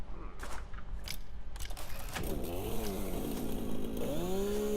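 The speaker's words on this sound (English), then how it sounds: "I've got a chainsaw." A chainsaw in the video game Satisfactory cuts down trees, a continuous buzzing whine that rises and falls in pitch as it bites, with clattering impacts near the start.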